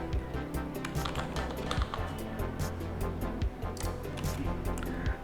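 Computer keyboard keys clatter in quick, light, irregular taps as a short search term is typed, close and faint with no talking.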